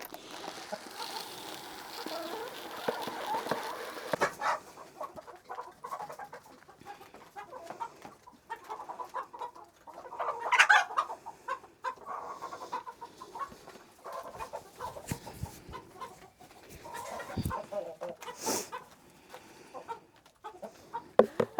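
Backyard laying hens clucking on and off at close range, with scattered short calls and some rustling movement, rising briefly in a few louder bursts.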